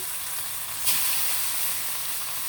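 Pieces of rui fish coated in salt and turmeric frying in hot oil, a loud, dense, continuous sizzle with a short burst of spitting near the start, close and without talk.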